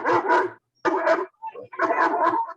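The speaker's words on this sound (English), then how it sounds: "The black dog's making most of the noise, but I can hear the white dog, but his pitch just seems higher." Two reactive dogs, a black Akita and a higher-pitched white dog, bark loudly and close in three clustered bursts separated by brief pauses, with a small yip between them.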